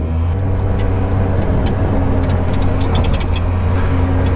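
A Piaggio Ape 50 three-wheeler's small engine drones loud and close in second gear, a steady buzzing hum held throughout with faint clicks and rattles above it.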